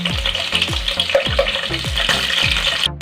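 Garlic frying in hot oil in a home kitchen pan, a steady loud sizzle with repeated scraping and stirring strokes in a regular rhythm, close up and without talk.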